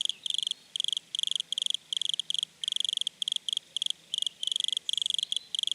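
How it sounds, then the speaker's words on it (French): A wood cricket in Paris chirps alone in quick, evenly spaced bursts of high, buzzing trills that repeat steadily against a quiet background. "Aujourd'hui, le grillon des bois."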